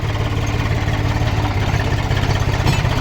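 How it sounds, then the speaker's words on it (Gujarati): A tractor engine runs close by with a steady, rumbling, low chug that stays even for the whole stretch. "જો ટ્રેક્ટર હાંકવાનું ચાલુ કરી દીધું છે."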